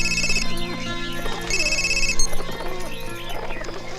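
A telephone rings with repeated bursts of a bright electronic tone over a busy background of music and sound in a Hindi film scene.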